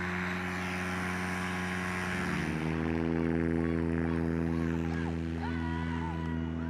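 A modified Piper Pacer bush plane powers up for a short takeoff at an EAA AirVenture STOL demonstration, its propeller engine droning steadily and rising in pitch, loud and close, with faint crowd noise around it.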